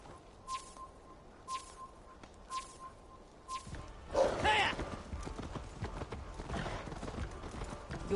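A horse's hooves clip-clop in Assassin's Creed Valhalla, with four evenly spaced ringing steps up front before a rougher, busier stretch of hoof thuds and movement, quiet and somewhat distant, with speech around.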